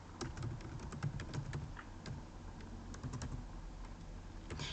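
Steady typing on a computer keyboard, quiet and close, with irregular key clicks running throughout over faint room noise.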